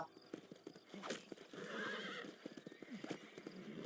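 A horse in the Red Dead Redemption video game whinnies and snorts amid steady clip-clop hoofbeats, close and fairly loud, with a brief voice in the background.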